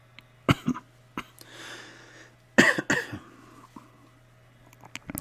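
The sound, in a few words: cough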